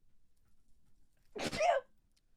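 One sharp sneeze up close, a sudden burst out of near silence that trails off quickly.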